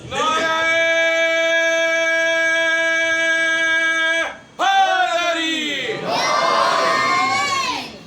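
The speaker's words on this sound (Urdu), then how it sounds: "ابھی آپ نے نعرے لگائے ہیں نا، یہ نعرے لگاتے کیوں ہیں بھائی؟" A crowd chants religious slogans together loudly in long, sustained unison calls at a Jashan gathering in Multan, voices rising and falling with a pause before the next shout.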